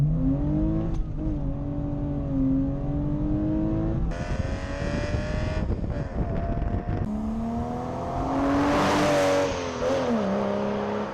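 A Porsche Boxster with a 2.5 litre engine driving along narrow country roads, its engine note loud and continuous as it revs up and down through gear changes, with wind and road rumble underneath.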